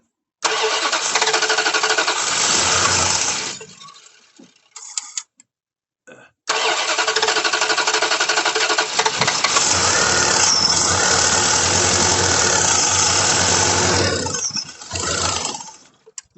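A vehicle engine cranks and catches, then runs loud and steady with a brief gap of near silence before restarting and continuing to run.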